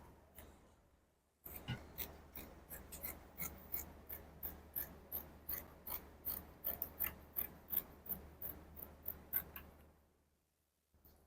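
Scissors snip through fabric being cut for a jumpsuit, a steady run of about twenty crisp, evenly spaced cuts close to the listener, with near silence before and after.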